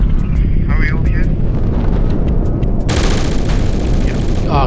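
Gunfire from the Project Reality tactical shooter on the Basrah map crackles in sporadic bursts under loud, constant wind-like rumble, with faint voices in the background.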